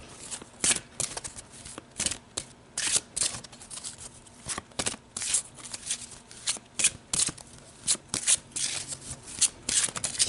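Tarot cards being shuffled by hand, close and crisp, in a quick series of riffling and sliding bursts repeating steadily with brief pauses between them, no talking.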